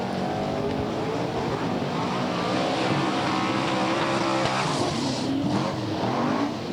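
Super sedan race cars roar around the dirt oval at Yandina Speedway, a dense, continuous, loud engine drone with shifting pitch as several cars pass close by, with no voices over it.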